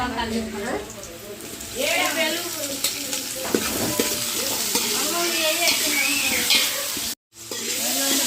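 Tomatoes and green chillies fry in a pan with a continuous crackling sizzle and occasional stirring, while a person talks over the cooking most of the time.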